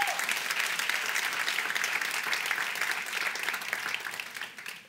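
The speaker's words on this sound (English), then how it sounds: "Let's give them a round of applause." A church congregation at a Sunday service breaks into steady, dense applause that carries for several seconds before thinning out and fading at the end.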